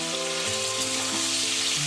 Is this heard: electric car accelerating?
no